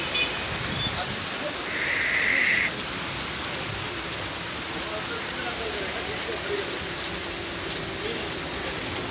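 Rain falls steadily as a dense, even hiss across the whole stretch, with a brief brighter burst of noise early on and faint scattered taps beneath.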